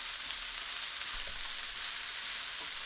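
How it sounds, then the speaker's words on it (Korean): Eggs stir-fried in a pan with wood ear mushroom and scallion give a steady, close, loud sizzle that holds evenly throughout with no talking. "계란 넣고 20초 볶아주세요."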